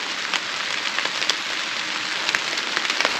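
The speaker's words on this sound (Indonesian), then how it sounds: "Padahal belum nyampe pos 1 udah hujan." Rain falling on a mountain hiking trail at Prau via Dieng, a steady dense hiss of drops with scattered sharper patters close by, no voices.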